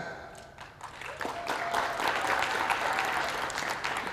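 Church congregation applauding and cheering, a dense burst of clapping with scattered whoops that swells after a quieter opening and holds at a lively, sustained level.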